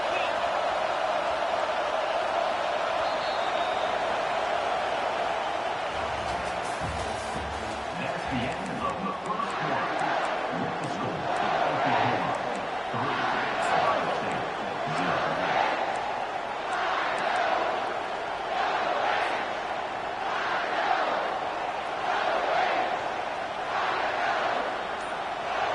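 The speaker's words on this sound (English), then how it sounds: "this crowd will blow out a vocal cord to help this defense" Stadium crowd at a college football game between OSU and Oklahoma roars steadily on a third-down play, a dense continuous wall of cheering with rhythmic swells and chant-like pulses, while a commentator talks over it.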